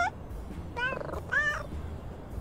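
A cat in the video game Little Kitty, Big City gives a few short, clear meows over a quiet background hum, with no speech.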